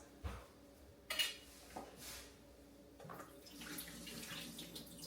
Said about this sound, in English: We're gonna drain off the juice.